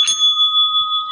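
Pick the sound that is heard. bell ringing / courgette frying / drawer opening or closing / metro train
bell ringing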